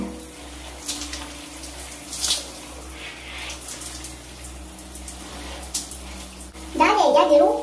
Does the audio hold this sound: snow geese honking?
no